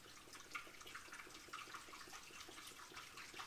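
Coolant poured into the cooling system of a BMW E93 335i, a faint continuous trickling, splashing flow of liquid heard close up with no talking.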